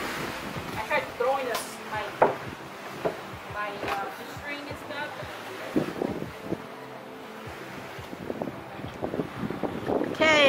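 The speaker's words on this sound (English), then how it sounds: "We're here at Clearlake and it's super windy." Strong, gusty wind at Clearlake, California buffets the microphone in rough, uneven bursts, with voices heard at times underneath.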